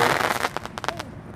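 A mirchi firecracker from Sivakasi bursts outdoors: a loud, crackling explosion followed by a quick run of sharp pops and crackles that fade within a second.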